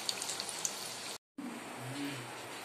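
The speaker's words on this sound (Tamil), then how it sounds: "ஃப்ளேம் ஃபுல்லலயே வச்சிட்டீங்கன்னா சீக்கிரம் இது ஃப்ரை ஆயிடும்" Cauliflower pieces frying in hot oil over a full flame give a steady crackling sizzle with small pops, broken by a brief silent gap before the frying resumes slightly quieter.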